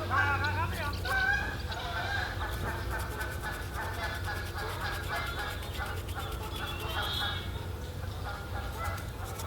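Geese honk and call by a pond outdoors, a busy, continuous chorus of squawks at moderate distance over a low background hum.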